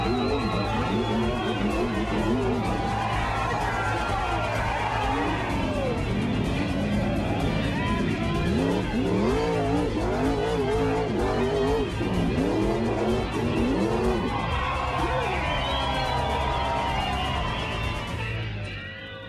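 Sprint cars racing on a dirt track at the Krikke Boys event: a roaring, revving engine with rising and falling wails from close by, loud and continuous, with no talk.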